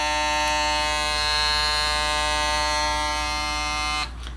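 A double foil electric shaver runs with a steady, even buzz held close and loud, then cuts off just before the end with no talking.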